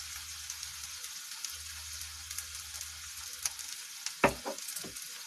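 Red chili and garlic masala for chutney cooking in a kadhai, a soft continuous sizzle and hiss near the pan, with a few light stirring clicks and a small scrape near the end, no speech.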